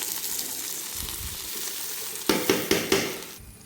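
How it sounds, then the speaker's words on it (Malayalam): Biriyani being stirred in a frying pan, a steady sizzle of frying running throughout, then four sharp scraping stirs of the spoon against the pan near the end, close and fairly loud, with no talking. "ഇത് കുറച്ച് ഇളക്കിക്കൊണ്ട് തന്നെ ഇരിക്കണം കേട്ടോ"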